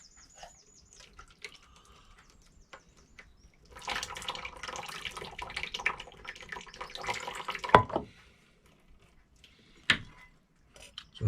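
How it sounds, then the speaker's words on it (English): Water splashes and pours as cooked potatoes are partly drained for a chicken samosa filling: a close, continuous rush lasting several seconds, then a single sharp clatter and a short final splash. "I'm just going to slightly drain them off, but I do want to keep some of that starchiness."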